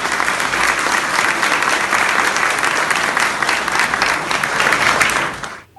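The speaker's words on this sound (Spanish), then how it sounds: "Un aplauso." A theatre audience breaks into loud, sustained applause at a personal storytelling performance, dense clapping holding steady for several seconds before cutting off abruptly.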